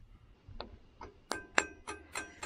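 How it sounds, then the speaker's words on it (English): A hammer tapping a hydraulic cylinder gland into place during a rebuild of a John Deere 410 loader backhoe cylinder, about eight sharp metallic pings spaced in a steady rhythm, fairly quiet and close. "And now I need to hammer the gland"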